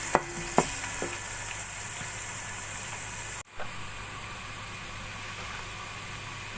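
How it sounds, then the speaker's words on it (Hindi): Browned onions with garlic paste frying over low heat in a pan, a steady soft sizzle running throughout, with a couple of sharp utensil clinks near the start and a brief break midway. "अब हल्की आंच पे इसको थोड़ी देर भून लेंगे।"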